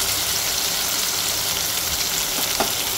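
Chopped onion, tomato and green chilli sizzle steadily in a hot pan for peas ragada. The frying hiss is close and constant, with a faint stirring scrape near the end.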